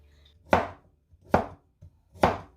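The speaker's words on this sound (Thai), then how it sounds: "เดี๋ยวมาหั่นกันนะคะ หั่นแบบไหนก็ได้ค่ะ" A knife chops through homegrown pumpkin in three sharp, close strikes spaced almost evenly apart, with quiet pauses between them.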